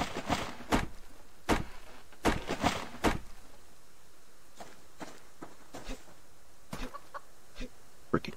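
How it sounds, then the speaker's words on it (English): Chicken clucking in the Subsistence survival game, a series of sharp, irregular clucks and scratchy steps at close range, alone without talk. "chicken."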